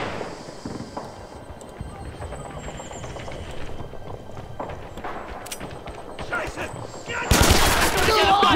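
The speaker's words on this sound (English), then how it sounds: "Shooting at us!" Rapid bursts of video game gunfire from a Western-themed shooter set at Oosterbeek, a steady crackle of shots under distant battle noise, swelling into a louder, denser volley near the end.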